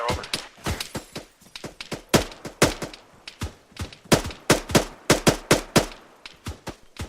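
Bursts of suppressing gunfire during a military training exercise, sharp rapid shots in short volleys and irregular strings, loud and close, with no talk over them.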